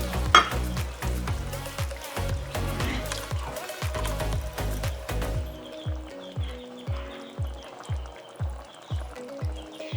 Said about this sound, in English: That's been simmering on the stove for a little while